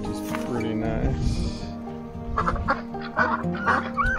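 Chickens and ducks in a backyard coop, with clucks, honks and squawking calls overlapping loudly and close by, mixed with a person talking.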